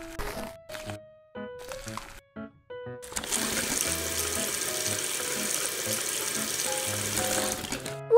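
Raw chicken being washed under a running kitchen faucet, a steady broadband rush of water lasting several seconds after brief clattering and handling sounds, close and fairly loud.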